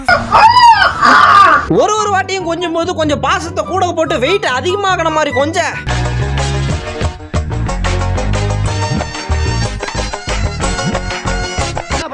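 A voice imitates a rooster's crow with rising, wavering cries, followed by other vocal sounds and then loud music.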